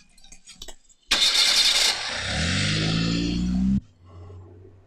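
A car engine cranks and catches with a loud burst, then revs and pulls away with rising pitch before cutting off sharply, heard up close on a street in a movie scene.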